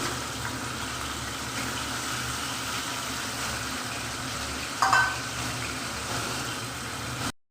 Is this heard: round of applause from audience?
no